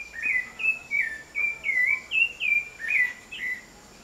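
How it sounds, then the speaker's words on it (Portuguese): A rufous-bellied thrush sings a series of clear, fluting whistled phrases, about eight short notes in a steady rhythm, fairly close against quiet background hiss in a backyard. "Sabiá da laranjeira, tá vendo?"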